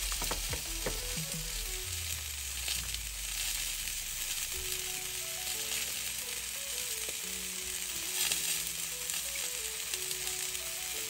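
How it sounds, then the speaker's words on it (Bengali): An egg frying in a pan with a lid on, a steady soft hiss of sizzling oil that runs throughout, close and even, with faint background tones and no speech. "ডিমটা ভাজা হচ্ছে"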